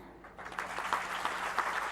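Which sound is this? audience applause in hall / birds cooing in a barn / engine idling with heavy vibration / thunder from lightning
audience applause in hall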